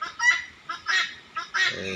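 Poultry calling nearby on a turkey and country chicken farm: three loud, nasal honking squawks in quick succession, each a short burst separated by brief pauses.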